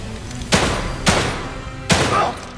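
Three sharp gunshots ring out from the survival horror game The Evil Within 2, each a loud, close crack with a short decaying tail, spaced irregularly over a couple of seconds.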